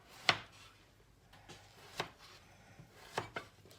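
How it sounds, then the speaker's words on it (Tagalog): A knife slices eggplant on a cutting board, giving a few sharp, separate thuds spaced unevenly over a few seconds in a quiet kitchen. "Ayan, hiwain na natin."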